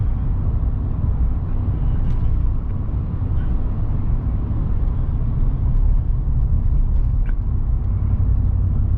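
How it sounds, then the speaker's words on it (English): A truck engine with cylinders deactivating gives a steady low drone with heavy rumble, continuous and loud throughout, like running at a constant speed. "The more cylinders that drop, the louder that drone gets."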